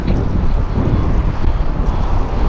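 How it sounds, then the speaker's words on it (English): Strong wind buffets a microphone outdoors while cycling through the city, a loud, continuous rushing roar with gusty low-end thumps and no talking. "It's just windy through here."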